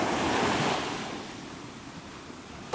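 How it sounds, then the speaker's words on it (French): Waves washing onto the shore of a bay in Corsica, a continuous broad surf roar with some wind noise, swelling slightly at first and then steadying, with no talking. "je vous montre cette belle baie."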